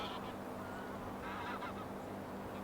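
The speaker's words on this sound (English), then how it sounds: "Another grab shot as geese come into land." Geese honk repeatedly as they come in to land over steady wind-like background noise, the calls fairly close and overlapping in a loose flurry.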